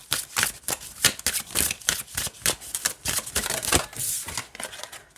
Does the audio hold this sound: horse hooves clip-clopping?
no